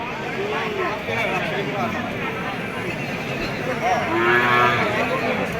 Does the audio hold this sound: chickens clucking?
no